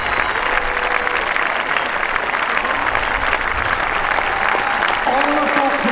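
A crowd applauds runners in the 1 mile race at the Braemar Gathering in the Scottish Highlands, with steady, dense clapping and cheering that continues throughout, with a few voices mixed in.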